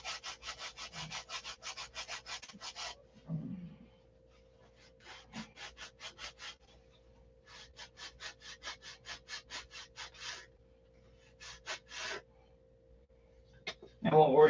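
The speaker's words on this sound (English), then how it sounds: "So it's taken 20 minutes to sand this flat." Wood being sanded flat by hand, rapid rhythmic rasping strokes in several bursts separated by pauses, close and steady, with brief low-level voice sounds between the passes.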